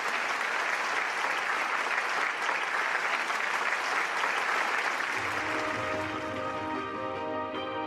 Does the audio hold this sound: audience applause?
yes